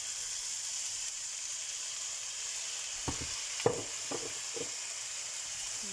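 Shrimp noodles are stir-fried with sweet soy sauce, giving a steady sizzling hiss with a few soft scraping stir strokes near the end, with no talk.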